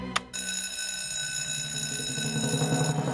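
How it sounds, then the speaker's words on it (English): A fire alarm bell rings continuously at a training tower, a loud, steady metallic ringing that follows a brief click and carries on alone without pause. "Time to sound the alarm."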